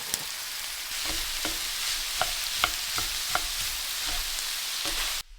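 Bacon and red bell pepper cook over a Weber kettle grill with a continuous sizzle and a scattered series of sharp taps and scrapes from stirring. The sound cuts off abruptly just before the end, and no one speaks.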